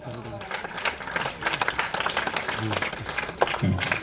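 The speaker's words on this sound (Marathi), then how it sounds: "ताईसाठी टाळ्या" Audience clapping at a Christian devotional gathering: a burst of scattered, moderately loud claps running throughout, with voices talking over it.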